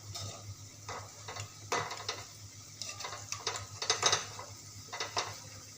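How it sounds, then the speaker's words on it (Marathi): Besan pakodas deep-fry in oil as a soft continuous sizzle, punctuated by scattered clinks and scrapes of a metal spoon against the pan, moderately close and without speech. "आपले भजे असे छान मस्त असे फ्राय होऊन राहिलेले आहे"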